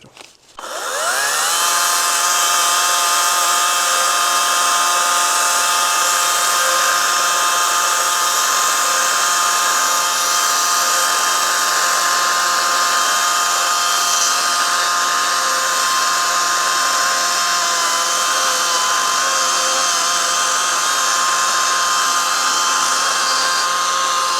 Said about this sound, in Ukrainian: Зараз протестуємо нашу пилку на деревині товщиною 29 см.